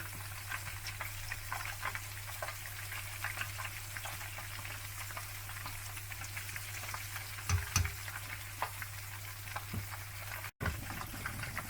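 Fish fries in a pan over a medium flame, giving a continuous close sizzle with fine crackles and a few brief louder spits, with no talking.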